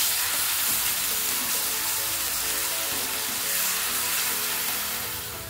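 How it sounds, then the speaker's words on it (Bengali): A coarse paste of onion, ginger, garlic and green chilli frying with spices in a pan for Kashmiri alur dom, making a loud, continuous crackling sizzle close up that holds steady throughout. "মশলাটাকে আমি ভালো করে কষিয়ে নেব"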